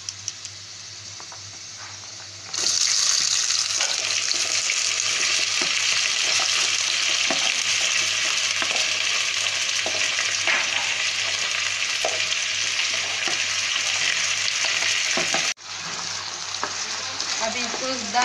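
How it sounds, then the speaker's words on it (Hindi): Mixed vegetables for Odia chadchadi fry and are stirred in a pan, with a steady, loud close-up sizzle and frequent scraping stirs. The sizzle grows louder after a quieter opening and dips briefly near the end. "अभी इसको 10 मिनट फ्राई करना है।"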